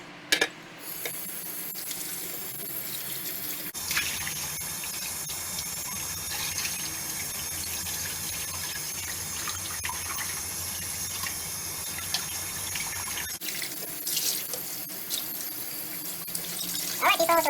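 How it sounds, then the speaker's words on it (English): Tap water runs steadily into a sink while dishes are washed with dishwashing liquid, a continuous close splashing rush with brief pauses and clatter at the start and end. "water and wash."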